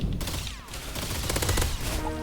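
Rapid gunfire from a secondary weapon during a video game duel, with dense overlapping shots and bursts filling the whole stretch at steady, loud volume.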